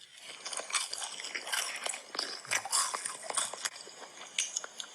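Close, crisp crunching of someone chewing a crunchy rice-noodle snack, dense irregular bites and crackles for several seconds with no talking.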